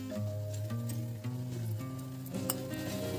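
Washed mung dal tumbles into a pan of fenugreek leaves that are already sizzling, producing a steady hiss with faint stirring clinks, heard close under a low, constant hum.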